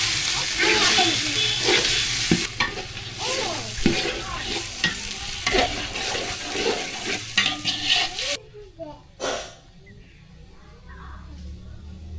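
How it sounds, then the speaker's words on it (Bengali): Chicken meat frying with onions in a village kitchen sizzles loudly while being stirred, with repeated scraping strokes against the pan, then the sizzle drops to a quieter hiss near the end. "আমি এখন মাংসটা পেঁয়াজের সাথে একটু ভাজা দেবো"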